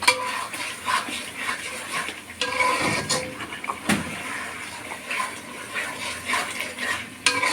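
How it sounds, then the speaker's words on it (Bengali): A spatula stirs and scrapes beef and spices frying in a pot for a Bangladeshi beef and potato curry. Close, irregular scraping knocks sound over a soft, continuous sizzle. "5 মিনিট মাংসের মশলাটা কষাবো"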